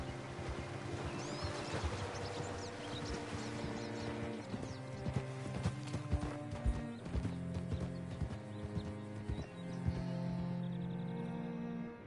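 Horse hooves clip-clop steadily in Red Dead Redemption 2, a continuous trotting rhythm with an occasional neigh over faint background music.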